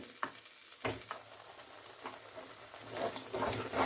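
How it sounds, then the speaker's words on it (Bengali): Spice paste frying for aloo dum over low to medium heat, a faint sputtering sizzle broken by scattered soft pops and stirring scrapes, growing a little louder toward the end. "এবার মশলাটা কষে নেব। লো টু মিডিয়াম ফ্লেমে রেখে মশলাটা একটু সময় নিয়ে"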